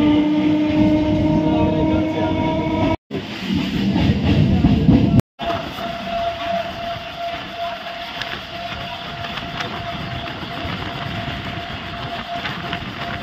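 A passenger train on the Lakshmikantapur–Namkhana line runs steadily with a continuous loud rumble and a sustained horn tone, broken by two brief dropouts.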